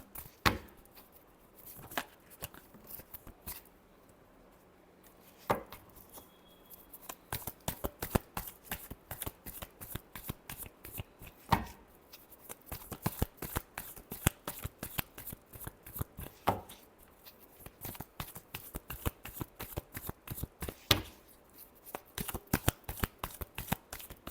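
A tarot deck being shuffled, with dense, continuous riffling and snapping clicks throughout, occasional louder slaps as the cards are squared, close and fairly quiet with no voices.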